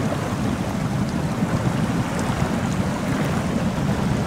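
A Land Rover Series 3 in SnowRunner crawls off-road in low range with the diff lock on, its engine a continuous rumbling drone under rushing, splashy texture, steady and close.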